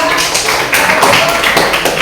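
Classroom group applauds a presenting team with a steady wash of hand claps, fairly loud and continuous, with brief louder bursts running throughout.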